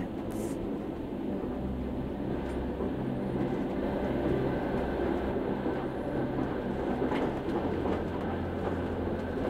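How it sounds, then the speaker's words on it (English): A train runs steadily through the Alishan forest in Taiwan, giving a continuous low rumble and rolling rail noise at an even, moderately close level throughout, with no talk. "As the train continues its descent"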